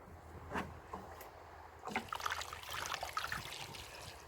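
Water is poured to soak plants, with a faint trickle and a brief splash early on, then a louder, steadier pour and dribble close by.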